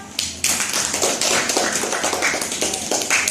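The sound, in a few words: classmates clapping for a student's answer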